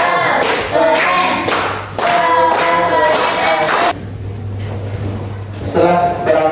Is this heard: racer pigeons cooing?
no